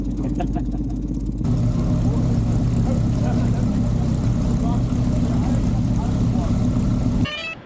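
An outboard engine on an inflatable boat runs loud and steady, starting from a quieter idle and then holding a constant drone for several seconds before cutting out abruptly. People talk over it.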